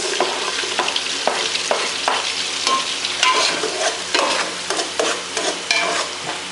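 Garlic and onion fry in hot oil with a steady, close sizzle, broken by repeated scraping stirs of a utensil against the pan at a fairly regular rhythm; nobody speaks.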